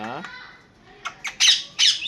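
A few sharp, squawking myna calls in quick bursts, loud and close, following a brief stretch of voice at the start.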